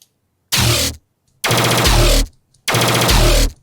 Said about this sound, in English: these fast machine gun basses don't have any sub to them